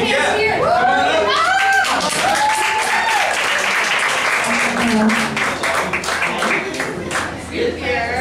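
A student comedy show audience claps and cheers for a volunteer at a stand-up and improv night; steady, fairly loud applause mixed with chatter, a host talking over it, the clapping thinning near the end.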